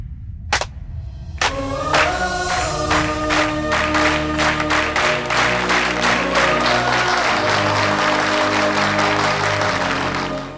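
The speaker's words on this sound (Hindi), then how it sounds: "आप लोग मेरे लिए एक बार ताली बजा दीजिए" Audience breaks into loud, sustained applause after a couple of isolated claps, many hands clapping steadily until the end.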